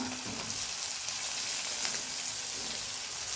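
Green chili and sliced onion sauté in hot oil in a pan, a steady, close sizzle with soft stirring scrapes, no voices.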